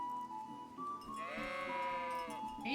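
A sheep bleating in the video game Kingdom Come: Deliverance, one drawn-out wavering bleat amid soft ambient game sound, fairly close.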